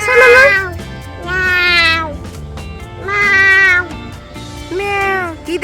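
A cat meows four times, each a loud, close, drawn-out cry with short gaps between them.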